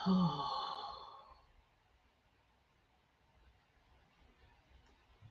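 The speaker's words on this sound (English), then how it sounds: "take a deep breath in through your nose and exhale through the mouth" A single deep breath is drawn in through the nose and let out through the mouth, the loud exhale at the start fading into quiet room tone.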